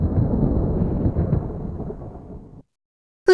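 A rolling rumble of thunder mixed with falling rain fills the first two and a half seconds in the Ready for Math with Pooh video game, fading and cutting to silence before a brief bright musical tone at the end.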